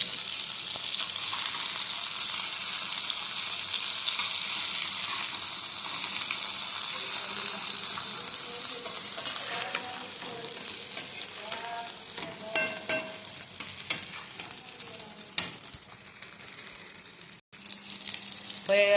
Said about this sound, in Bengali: হয়ে গেছে ইলিশ মাছ ভাজা